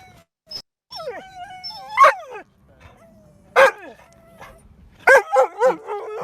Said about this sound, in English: Barking like crazy